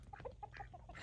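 Chickens and ducks on a farm give a quick burst of clucking calls, close and moderately loud, a rapid series of short notes over a low background rumble.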